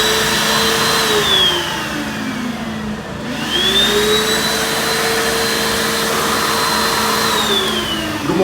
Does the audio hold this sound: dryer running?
yes